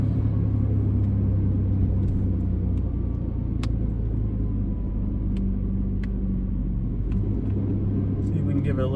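A turbocharged 4.3L engine paired with a 4L60E transmission rumbles steadily at a raceway, a low droning hum heard from inside with faint ticks, while a person talks over it.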